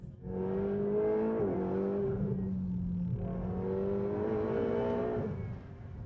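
A Ferrari 488 accelerates hard with a loud, close engine note that rises steadily, drops sharply at a quick gear shift, then climbs again through the next gear.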